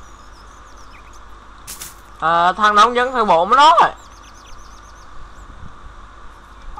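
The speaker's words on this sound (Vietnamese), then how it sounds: "Giờ chỉ còn tiếng chim hót thôi" Faint chirping birdsong from a Roblox Kingdom Development game plays softly in the background while someone talks loudly over part of it.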